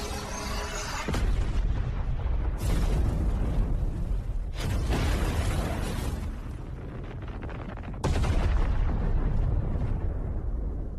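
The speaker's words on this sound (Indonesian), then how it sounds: "Dia ternyata meledakkan dirinya sendiri." A self-destructing character's explosion in an animated fantasy scene: heavy, roaring booming blasts that surge in repeated waves, loud and dense, with sharp fresh bursts near the start, around three and five seconds, and again at eight seconds.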